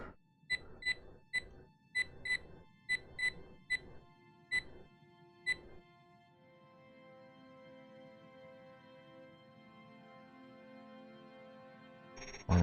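A Wii Remote gives a series of sharp, high electronic beeps in an irregular rhythm, about a dozen over several seconds, then stops and leaves a quiet hum.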